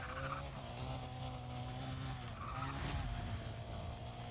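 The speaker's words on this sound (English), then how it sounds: "handbrake boost while driving on a straight" A continuous tire skid with a droning engine as a car does a handbrake boost in Need For Speed Undercover, steady and close for the whole stretch with no break in the squeal.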